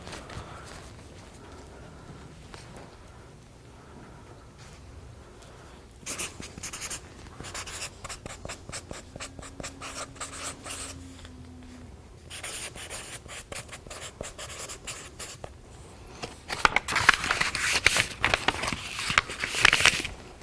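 Pen scratching on paper, bursts of writing strokes that grow busier and louder toward the end, heard alone in a quiet room.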